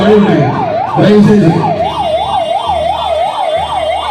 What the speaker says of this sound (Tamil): ஆம்புலன்ஸ் வாகனம் வந்தவுடன் ஆம்புலன்ஸுக்கு வழியை விடுங்கள் என உதயநிதி ஸ்டாலின் குரல் கொடுத்தவுடன்